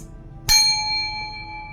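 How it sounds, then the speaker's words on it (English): A meditation chime is struck once and rings clearly, its bright metallic tone sustaining and slowly fading over quiet room ambience. "Hold it, and when I hit the chime,"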